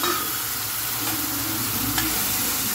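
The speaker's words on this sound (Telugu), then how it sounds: "ఈ ఆయిల్లోనే బాగా పచ్చి వాసన పోయేంతవరకు, కొంచెం కలర్ చేంజ్ అయ్యేంతవరకు ఫ్రై చేసుకోవాలి ఆనియన్ని" Ground onion and garlic sizzle steadily in a generous amount of hot oil while being stirred, a close, continuous frying hiss with occasional scraping, for a tomato onion chutney.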